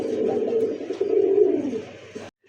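An agitated Kashmiri pigeon gives a drawn-out, throaty cooing call up close, rising and falling for about two seconds before it stops abruptly.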